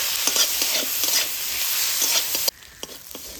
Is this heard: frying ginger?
yes